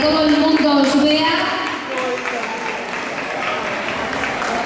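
Audience applause at a queens and mister pageant during a town's Rosario festival, sustained clapping from a crowd while a host speaks over it on a microphone.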